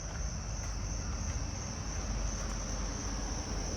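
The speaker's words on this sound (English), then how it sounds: "Carolina ground crickets, I hear." Carolina ground crickets trilling at night, a continuous high buzzing chorus held steady throughout over low rumbling background noise.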